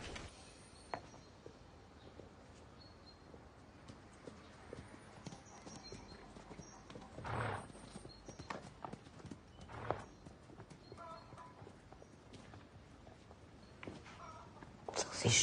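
Hooves of two horses, one of them a limping mare, clip-clop on hard ground as they are led away, scattered steps fairly close and faint with quiet background ambience.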